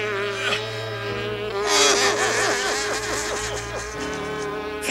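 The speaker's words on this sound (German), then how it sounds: "Fliege, hau ab." A cartoon fly buzzes around, a loud, close, wavering whine that swoops up and down in pitch over a low background hum.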